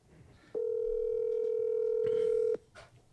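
A steady telephone tone hums for about two seconds while a call is placed, loud and unbroken, with faint room noise before and after.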